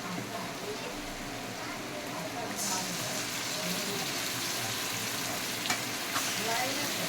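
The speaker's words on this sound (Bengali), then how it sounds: "মাংসটাকে এখন দেওয়া হচ্ছে কষানোর জন্য।" Marinated meat coated in yogurt and tomato sizzles in a hot kadai as it is braised, a steady, dense frying hiss that holds evenly throughout.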